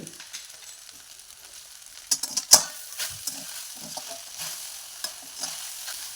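Sabudana khichdi with peanut powder and salt stirred in a pan, a low sizzle underneath and a string of close spoon scrapes and taps, sharpest around the middle.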